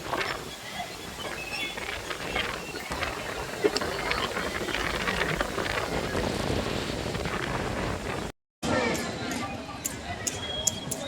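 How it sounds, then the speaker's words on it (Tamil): Strong wind blows steadily across the grounds of the Sooriyanar temple, a broad roaring rush with a brief dropout near the end and no talking. "செம்ம காத்துங்க."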